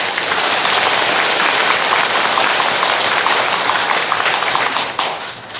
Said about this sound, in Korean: 이 대목에 박수 쳐야 돼.